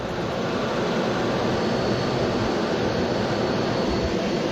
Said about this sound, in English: This is how low planes have to fly in order to land at St. Bart's Airport